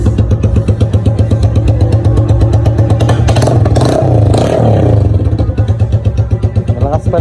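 A Supremo motorcycle engine revving loudly and steadily up close, a rough throbbing exhaust with rising and falling revs and clatter, with a voice briefly heard over it.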